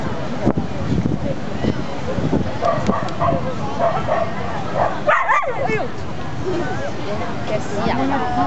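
Several dogs at an adoption gathering bark and yip intermittently while people talk and call to them, with steady outdoor wind noise throughout.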